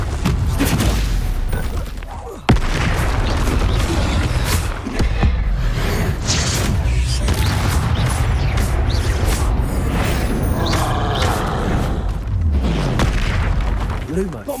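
Bombarda explosion spells in the video game Hogwarts Legacy, a dense, continuous rumble of booms and blasts with a sharp impact near the start, game voices talking throughout.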